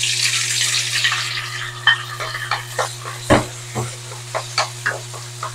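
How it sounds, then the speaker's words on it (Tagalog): Onions, garlic and ginger, followed by tomato, sauté in a pan, giving a soft steady sizzle broken by scraping stirs and clinks of the utensil, heard near and alone over a low background hum. "hintayin lang natin masote yung ating mga sibuyas, bawang, ginger"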